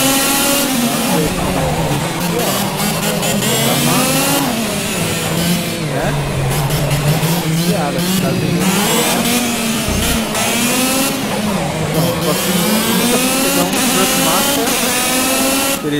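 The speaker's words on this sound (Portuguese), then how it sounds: "O volume do carro tá muito alto." A race car engine in the racing game Project Cars drones loudly and without a break, its pitch climbing and dropping through gear changes and revs.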